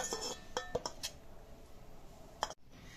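Stuffed brinjal curry is served onto a plate with quiet, close clinks and scrapes of a spoon against metal cookware, a few distinct taps early on, then softer clatter.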